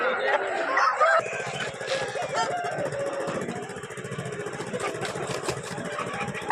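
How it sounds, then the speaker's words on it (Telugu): Roosters and chickens at a country chicken market crow and cluck over a constant rumbling engine idle and crowd noise, with one loud burst of crowing near the start. "సంతలో ఈ విధంగా కోళ్ళు అనేవి ఉంటా ఉంటాయండి"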